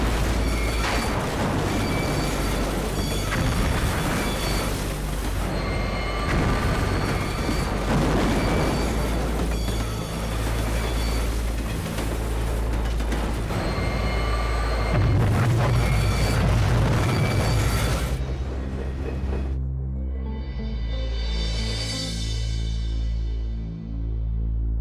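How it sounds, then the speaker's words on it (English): A three-coach train slams into a nuclear waste flask at 100 mph, and the crash is a long, loud roar of impact and tearing metal with repeated heavy booms that cuts off abruptly into a fading ringing tone. "The tremendous impact destroys the train."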